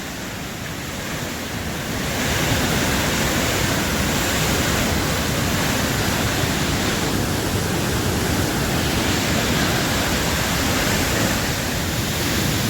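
A raging river torrent in the Scottish Highlands roars in a dense, continuous rush of broadband water noise that swells louder after the first couple of seconds and stays steady, with no voices over it.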